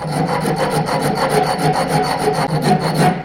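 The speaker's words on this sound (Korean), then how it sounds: "다시 이렇게 집어넣어서 구멍을 넓혀주는 것이 더 빨리 날 수 있는 방법입니다" A tool rasps back and forth against a 1/2-inch copper refrigeration tube as a hole is widened, giving loud, rhythmic grinding strokes in quick succession with no talking.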